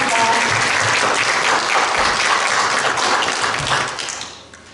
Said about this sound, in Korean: 다시 한 번 더 큰 박수로 마무리하도록 하겠습니다